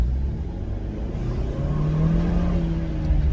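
A Kia K5 GT front-wheel-drive car engine accelerating hard, its steady droning note climbing in pitch as it pulls, heard close and continuous with no talking.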